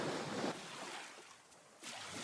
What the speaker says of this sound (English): You can probably hear the waves in the background